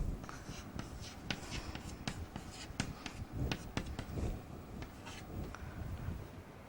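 A pen writing out a table of input combinations for a flip-flop circuit, quick scratchy strokes and taps in an irregular rhythm, close and fairly quiet with no talking.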